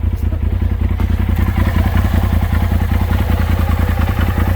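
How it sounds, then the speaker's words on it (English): Engine of a Polaris RZR XP Pro Ultimate side-by-side idling and revving under light throttle, a loud close low rumble with fast rhythmic pulsing and some clatter. No voices. "give her a little bit of throttle"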